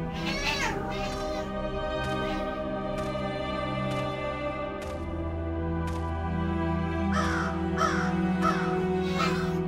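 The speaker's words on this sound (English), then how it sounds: "I'm sorry for cats in the background." Cats meow and crows caw with a harsh, raspy edge over a sustained spooky musical drone, with repeated bursts throughout, loudest near the start and again toward the end.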